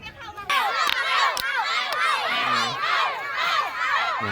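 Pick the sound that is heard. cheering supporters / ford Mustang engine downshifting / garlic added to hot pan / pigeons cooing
cheering supporters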